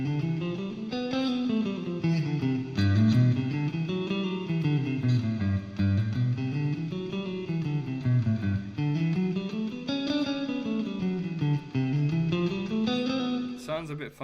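Guitar running a major scale shape moved unchanged across a 1-4-5 chord progression, rising and falling note runs with a slightly effected tone, steady and close, with no voice over it.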